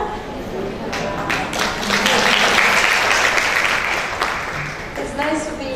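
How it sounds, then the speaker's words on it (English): Audience applause sustained at a child safety conference in Nan, Thailand, as a speaker is welcomed, steady clapping swelling and then tapering, with talk mixed underneath. "please give a clap to Emma Johnson here"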